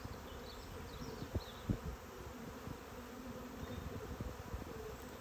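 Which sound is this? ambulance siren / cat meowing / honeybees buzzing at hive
honeybees buzzing at hive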